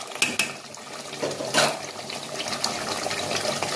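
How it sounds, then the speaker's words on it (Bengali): Water is poured into a pot of mutton curry with potatoes, a soft splashing pour with a few metallic clinks of cookware, close and fairly quiet, with no talk. "এবার আমি পরিমাণ মতন জল দিয়ে দেবো।"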